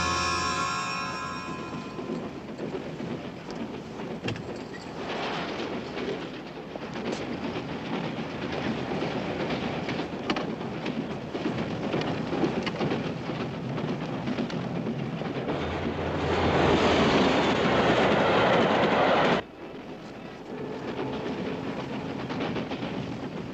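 A passenger train runs steadily on its rails with a continuous rumbling clickety-clack that swells louder for a few seconds before dropping back, with no talk heard.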